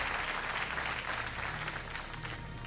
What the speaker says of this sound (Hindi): एक बार फिर हम तालियों के साथ इनका अभिनंदन करते हैं